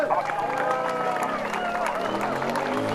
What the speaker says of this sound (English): Riesenapplaus für Jane Bocklag.